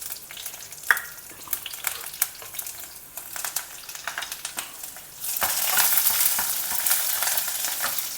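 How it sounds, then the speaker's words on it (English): Jeera, cashew halves and split green chillies sizzle and fry in a pan, with scattered pops and stirring scrapes, and the frying grows louder and denser near the end. "Now stir fry all these together."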